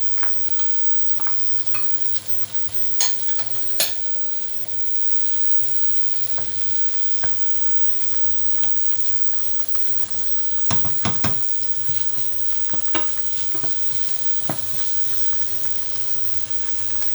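Pasta and spinach stirred in a pan give a faint, steady sizzle, broken by a few soft scrapes and clinks of the spoon.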